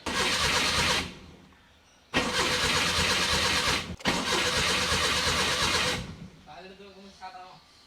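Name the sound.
Maruti 800 car engine starting after repair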